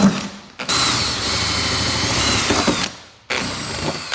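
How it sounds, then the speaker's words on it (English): Large power drill boring holes into a BMW G82 M4 for wing bolts, a loud close whine running in two sustained bursts separated by a short pause. "these are basically done to pretty much guide the big boy drill in so we can drill in"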